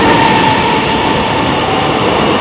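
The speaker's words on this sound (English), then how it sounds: "and then there goes a freighter" A freight train rolls through a railway station in Hyogo, Japan, giving a steady, loud, continuous rumble and rail roar that holds evenly for the whole moment with no voices.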